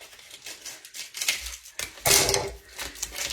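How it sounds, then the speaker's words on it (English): Plastic vacuum-packed meat package being torn and peeled open in a kitchen, close crinkling and ripping bursts with a sharp louder tear partway through. "open these, they're vacuum packed"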